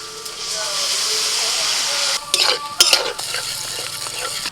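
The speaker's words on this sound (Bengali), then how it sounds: "ভাজা সবজি সমেত সিদ্ধ করা ডালটা ঢেলে দিচ্ছি" Boiled dal with fried vegetables and spices pours into a hot pan with a loud, steady sizzle and hiss, followed by bursts of stirring and spattering.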